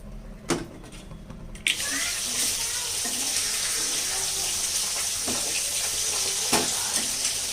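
Fish seasoned with salt and turmeric fries in hot oil with a steady, bright sizzle, opening with a few sharp clatters before the loud crackling spreads and holds, with occasional knocks over it.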